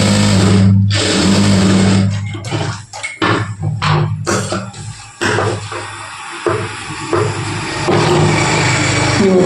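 A sewing machine stitches a folded one-inch hem on dhoti pants, loud close bursts of rapid whirring broken by short pauses and handling knocks, no speech.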